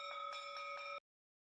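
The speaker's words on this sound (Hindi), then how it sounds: "घंटी अपने आप बज उठी।" A bright bell rings with several evenly spaced strikes over about a second, each tone sustaining clearly before cutting off abruptly.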